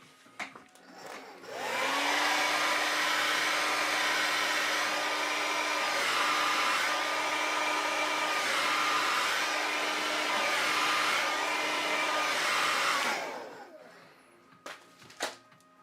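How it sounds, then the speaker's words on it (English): A blow dryer drying paint switches on and runs steadily with a loud, constant whooshing hum for about ten seconds, then winds down and stops, with faint handling noises after. "So then we get the blow dryer."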